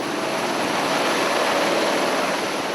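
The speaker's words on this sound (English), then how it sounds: "They manoeuvre the chopper closer" Helicopter flying low over a riverbed during a search for a missing hunter, a loud, steady broadband rotor and engine roar close by that fills the whole moment without letup.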